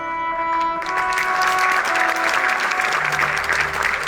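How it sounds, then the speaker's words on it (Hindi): An audience at an Olympic medallists' felicitation ceremony in Panchkula applauds loudly and continuously, dense clapping holding steady throughout, with a sustained tonal hum under the clapping at the start. "तालियां तब तक बजाते रहिए जब तक कि मैं रवि को इनवाइट न करूं"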